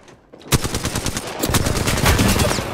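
Rapid automatic gunfire from the Apex Legends video game, loud and continuous bursts starting after a brief quiet moment and carrying through to the end.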